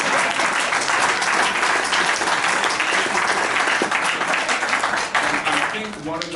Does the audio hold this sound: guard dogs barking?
no